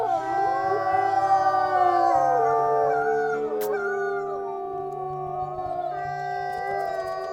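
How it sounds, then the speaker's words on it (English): A wolf named Flint howls in the wolf game Wildfire, several layered, sustained howls sliding in pitch over a low droning background, loud and clear with no talking. "I think that's actually him howling."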